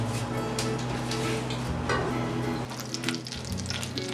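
Butter sizzles and fizzes steadily in a hot pan on the stove, a close, continuous frying hiss with faint ticking, heard alone without talk.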